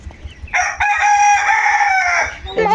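A domestic country rooster crows once, loud and close, on a village farm where desi chickens and ducks are kept, with soft clucking and rustling around it.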